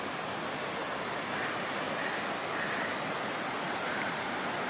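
Waterfall at Rengali dam, a dense steady roar of rushing water filling the whole clip at constant loudness, with no voices over it.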